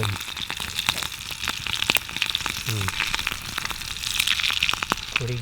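Rainbow trout sizzles and spits in a hot pan, a steady close frying hiss broken by sharp crackling pops scattered throughout, with no talk.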